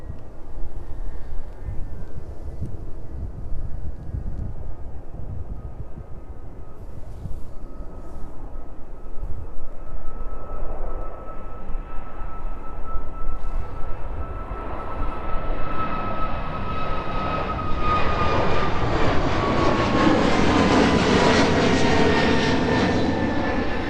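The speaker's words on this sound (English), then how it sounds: "That aircraft now making its way down towards us." A Jet2 airliner on approach to the runway at East Midlands Airport, its engine roar building steadily and growing louder as it descends closer, with a rising whine toward the end and no talking.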